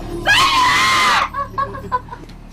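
A person lets out one long, loud, piercing scream that lasts about a second, followed by a few shorter, fainter cries.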